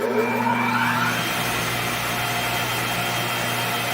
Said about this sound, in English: So I'm going to demo the vacuum blowers.